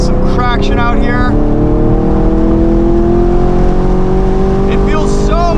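A 2023 Camaro SS 1LE on the track at Gingerman Raceway, its engine droning steadily loud with rising and falling pitch as it pulls through corners, while a driver talks over it at the start and end.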